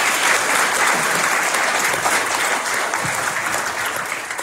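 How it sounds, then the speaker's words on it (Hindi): A crowd at a Hindu devotional gathering (Mata Ki Chowki) in Sydney claps steadily and loudly for several seconds, the applause dense and sustained before easing slightly at the end. "अगर आया होगा तो सभी के लिए आप जोरदार से तालियां बजा देंगे।"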